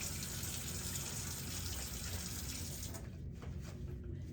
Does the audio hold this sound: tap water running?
yes